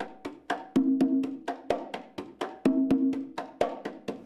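Conga drums play a syncopated tumbao rhythm: crisp slaps alternate with ringing open tones in a steady repeating groove, close and clear with no voices.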